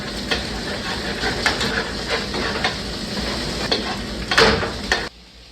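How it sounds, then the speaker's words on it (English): Eggs being scrambled in a frying pan, a steady close sizzle and hiss with repeated scraping strokes of a utensil against the pan, ending abruptly. "Just going to scramble these eggs up"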